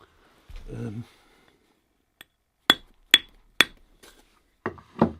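A hammerstone strikes flint being knapped into a dagger, giving several sharp, isolated clicking knocks in a spaced sequence, close and crisp against near silence, with someone briefly talking beforehand.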